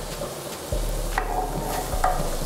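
Onions tossed into a hot pan, a sudden burst of sizzling that jumps up in level and then keeps frying steadily, with a couple of light clatters, close and with no talk.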